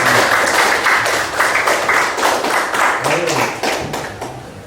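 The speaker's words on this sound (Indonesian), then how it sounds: "tepuk tangan buat Kirana dan juga yang lainnya" Students in a classroom give a short round of clapping, uneven and fairly close, lasting a few seconds before it tapers off, with a voice audible underneath.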